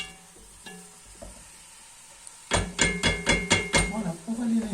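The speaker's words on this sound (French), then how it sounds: "Pour l'instant, il faut que les légumes cuisent correctement." Vegetables for a bolognese sizzle and fry in a pan, quiet at first, then loud bursts of frying with repeated scraping stirs against the pan.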